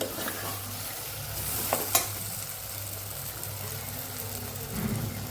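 Potatoes with spices, fresh coriander and salt are stirred and sautéed in a cooker pan for dry potato bhaji, producing a continuous close sizzle with scraping stirs and a brief metallic clink.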